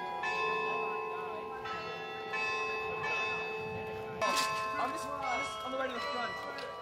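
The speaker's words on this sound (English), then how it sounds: "Bell tower." The carillon bell tower in Bathurst rings sustained, overlapping bell tones outdoors, with fresh strikes every second or so and a louder cluster toward the end; faint voices are heard at times.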